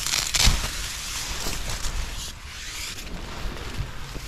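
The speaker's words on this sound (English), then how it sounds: "Johnny says it's real windy out there too." Gusty wind roars outside a winter canoe camp during a January snowstorm, a broad steady rush with a sharp gust near the start and softer buffeting after.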